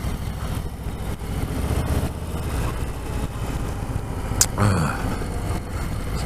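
Harley-Davidson Street Bob 114 motorcycle ridden along a bumpy road: a steady, deep engine rumble blended with wind buffeting, continuous and fairly loud, with a brief knock near the end.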